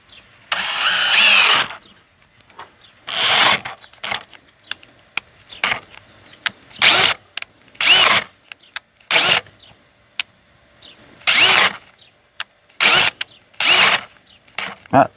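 A power drill with a 1.5 inch bit bores into wood in a backyard build, a series of loud, close bursts of whining motor and cutting, each lasting about a second with quiet gaps between.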